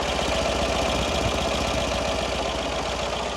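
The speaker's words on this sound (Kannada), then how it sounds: "ನಾನೀಗ ಗಾಡಿನ ಆನ್ ಮಾಡಿದ್ದೀನಿ. ಸೊ ಎಕ್ಸಾಸ್ಟ್ ಸೌಂಡ್ ಕೇಳಿ ನೀವಿಲ್ಲಿ." A Tata Nano's two-cylinder engine idles, its exhaust giving a steady, close, loud putter with a rough, auto-rickshaw-like low throb that never changes in pace.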